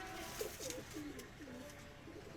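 Pakistani high flyer pigeons coo softly in repeated low, rolling phrases, close by against a faint background hiss, with no talking.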